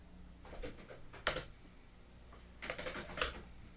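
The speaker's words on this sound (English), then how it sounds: "You can hear the typing." Soft computer keyboard typing in two short bursts of clicks with a quiet pause between, fairly faint and close, no talking.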